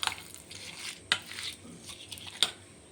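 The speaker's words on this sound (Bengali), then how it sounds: "এই মশলাটাকে ভালো করে মাখিয়ে নিতে হবে" Spice paste is worked into fish by hand, making wet, squelchy mixing sounds close by, with several bright clinks from a dish or utensil in the quiet background.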